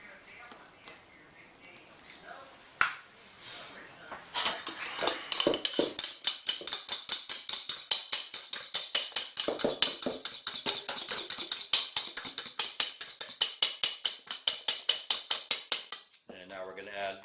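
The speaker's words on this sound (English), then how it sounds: "we're going to beat in our egg yolks" Egg yolks being beaten in a bowl, a fast, regular clinking of a whisk or utensil against the bowl that starts after a few scattered knocks and runs steadily, close and clear, for about twelve seconds.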